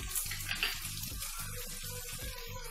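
Cashews and raisins sizzle in hot oil in a pan while a spoon stirs them, giving close crackling fry noise broken by several soft scraping stirs.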